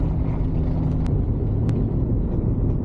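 Van engine labouring up a steep mountain road while changing down a gear, a steady loud low rumble with a gear-whine tone that shifts midway, plus a couple of brief clicks.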